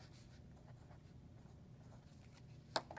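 Numbers being written on a number line, soft faint scratching strokes of a pen over low background hum, ending with a brief sharp tap.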